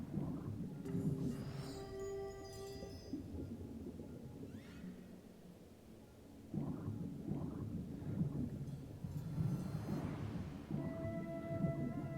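Rolling thunder rumbles through the storm chamber in the Wizard101 video game, with steady rain hiss and a low droning hum underneath, and occasional chiming tones, moderately loud with no talking.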